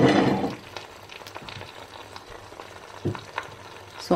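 French toast frying in a pan gives a soft, steady sizzle with faint crackles and a few small clinks of a utensil, close and fairly quiet, with no one talking.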